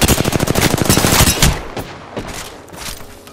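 Rapid bursts of automatic gunfire in the video game Apex Legends, loud and close for the first second and a half, then thinning to scattered, quieter shots.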